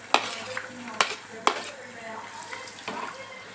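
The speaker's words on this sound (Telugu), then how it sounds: "ఇదే ప్యాన్లో ఆనియన్స్, చిల్లీస్ ఫ్రై చేసుకోవాలి." Onions and chillies fry in a pan, a soft sizzle under sharp clinks and scrapes of a spoon stirring against the metal, several distinct taps spaced about half a second apart, heard close.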